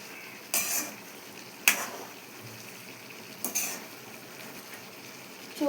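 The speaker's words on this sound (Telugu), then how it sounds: "వేసుకున్న తర్వాత దీన్ని బాగా కలుపుకోవాలి. ఇలా కింది నుండి పైకి ఇలా కలుపుకోవాలి." Chicken fry is stirred in a pan, with a few sharp scraping clinks of a spoon against the pan at irregular intervals over a faint sizzle.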